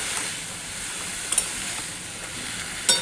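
Vegetables sizzling in a pan with salt added, a steady close hiss of frying with a couple of faint stirring scrapes, no talk.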